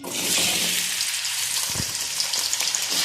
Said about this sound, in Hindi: और इसको हम मीडियम आंच पे अच्छे से फ्राई कर लेंगे गोल्डन होने तक।